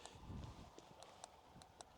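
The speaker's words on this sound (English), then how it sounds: "I forgot there's horses walking around there." Horses walk nearby in the dark, their hooves giving faint, irregular clip-clop knocks over a low rumble and soft background hiss, with no talking.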